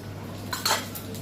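Utensils clink and scrape faintly while a tempering (tadka) for dal is readied in a home kitchen, a couple of brief metallic touches over a low steady background hum.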